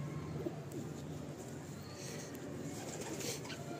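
Low, quiet cooing from pigeons in a loft runs on without pause, a muffled, steady burble with faint background noise and no voices.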